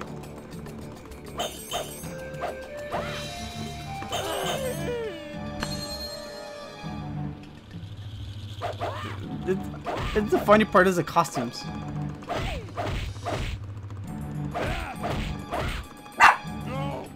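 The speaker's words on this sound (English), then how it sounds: "Okay, dog is barking." A dog barks in several sharp bursts under steady talk and electronic arcade game music and beeps, with the loudest bark near the end.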